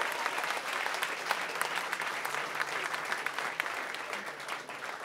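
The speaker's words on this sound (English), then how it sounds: "So please, a big round of applause" A bar-room crowd at an appreciation night claps steadily, a dense, continuous round of applause from many people with scattered sharper claps, fairly close and sustained for the whole stretch, no speech on top.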